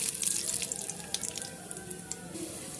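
Peanuts crackling in hot oil in a pan with mustard seeds and chana dal, a steady close hiss and sizzle with scattered small pops and no voices.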